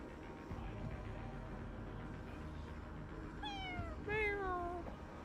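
A cat meows in a video game, with several clear rising-then-falling meows near the end, loud and close over a steady background game soundscape.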